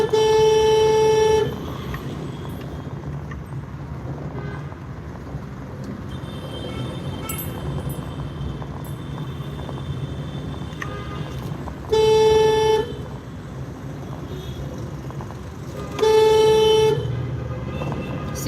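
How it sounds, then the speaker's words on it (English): Car horns honk in short bursts while stuck in traffic, three distinct blasts separated by long stretches of steady traffic rumble and engine noise. "So you're hearing the honking"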